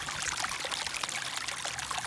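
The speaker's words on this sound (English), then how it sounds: "Now this is the Whitewater River" Silty Whitewater River running beside a road near the Whitewater Preserve, below snowy San Jacinto: a steady, dense rushing and splashing of water, close and continuous, with no voices.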